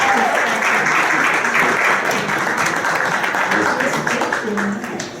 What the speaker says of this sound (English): Come on, let's give her a big round of applause, everyone.